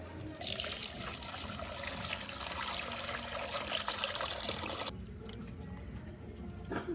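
Running water as chicken meat is washed in a village kitchen, a steady splashing stream for several seconds that then cuts off, leaving a quieter background with faint trickles.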